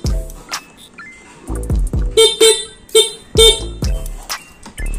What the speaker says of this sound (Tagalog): At eto naman yung tunog mga paps ng busina netong Vespa Sprint 150S.